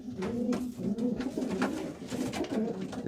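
Several pigeons coo steadily near nest bowls, their soft, low, rolling calls overlapping in a continuous close chorus without any talk.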